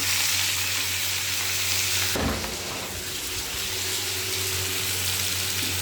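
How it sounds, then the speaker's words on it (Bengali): Potatoes fry in hot oil in a pan while being stirred, a loud continuous sizzle that briefly changes texture as the pieces are turned, close up and without talking. "আলুটা দিয়ে একটু নাড়াচাড়া করে নেব।"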